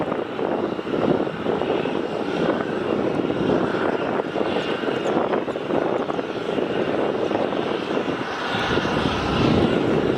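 A fixed-wing passenger airplane landing at night at Melbourne Airport, heard up close: a loud, steady roar of engines filling the whole stretch, swelling slightly toward the end, with no voices.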